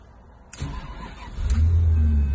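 A special-edition Bentley car's engine cranks and fires up, then settles into a loud, steady low idle close by.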